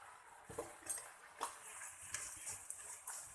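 A spoon clinks and scrapes against a pan as sugar is stirred into carrot halwa, making soft, irregular knocks spaced about half a second apart at low volume.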